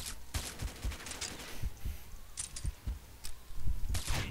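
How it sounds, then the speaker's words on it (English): Rapid gunfire in the video game Combat Arms, a string of sharp cracking shots in irregular bursts, fairly close and loud. "Let's see if I can get him with the sniper."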